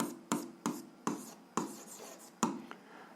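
An algebra solution being written out by hand, heard as close, quiet scratchy strokes in short separate bursts with brief pauses between them and no talking.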